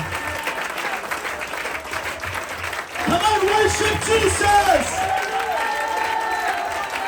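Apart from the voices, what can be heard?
congregation applause in church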